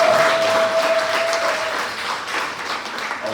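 A room full of business leaders at a meeting claps in continuous, dense applause, loud and close at first and tapering slightly. A sustained tone hums faintly through the opening moments.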